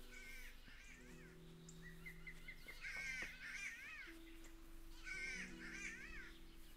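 Crow-like bird cawing in the Kingdom Come Deliverance video game, repeated harsh calls in two clusters over a steady outdoor ambience with faint tonal music underneath.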